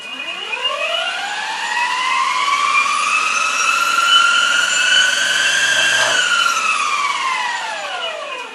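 Chargiot Bomb 2400W electric skateboard motor run up to full throttle, giving a loud, steady electric whine that climbs in pitch, holds high for several seconds, then eases down near the end.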